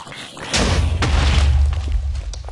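A skull exploding in the Minecraft Mutant Creatures mod, a sudden loud deep boom with rumbling low tail and crackle lasting about two seconds.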